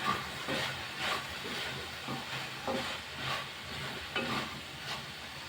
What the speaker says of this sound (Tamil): ஒரு வாட்டி மிக்ஸ் பண்ணிட்டுலாம்